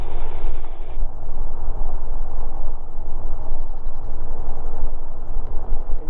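Gyrocopter engine and rotor droning loud and steady at close range through a soft-field landing approach, a continuous low rumble with a brief higher whine fading out early on.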